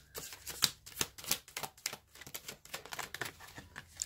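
Tarot cards being shuffled by hand, a rapid run of crisp riffling bursts and flicks close up, irregular in rhythm and heard alone without speech.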